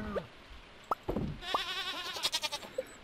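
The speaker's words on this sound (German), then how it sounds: "Damit meine ich nicht die Ziege, damit meine ich die große Ziege." A goat bleats several times in the farming video game Stardew Valley, with short wavering calls against soft game ambience and a few quick rhythmic pulses near the end.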